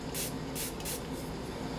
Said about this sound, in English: I'm going to go ahead and spray some of this on my brush.